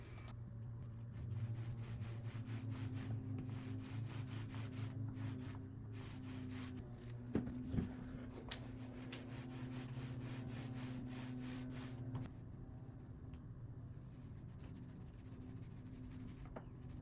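A paint roller spreads Krylon chalkboard paint across a kitchen cabinet, making a steady, soft rubbing texture of continuous strokes with brief breaks, fairly quiet and close.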